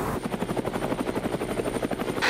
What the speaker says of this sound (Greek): τότε λοιπόν όπω παρατηρείτε και εσεί είναι καλύτερα ακόμα και όταν χρησιμοποιήσουμε και τον ήχο ελικοπτέρου